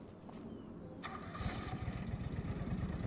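A farm vehicle engine in a farming game cranks and catches, settling into a steady chugging rumble that stays close and moderately loud.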